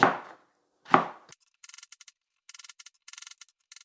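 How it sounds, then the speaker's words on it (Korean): A knife chops hard, fibrous peeled ginger on a cutting board in quick clusters of crisp, close taps. Two louder knocks come at the start, then irregular bursts of rapid strokes follow with short pauses between them. "이렇게 생강을 갈기 좋게 이렇게 잘 썰어 놨습니다"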